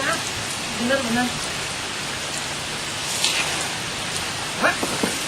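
Steady rain falls outdoors as a dense, even hiss, with faint scattered voices now and then.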